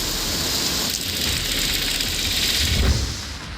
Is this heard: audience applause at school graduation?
no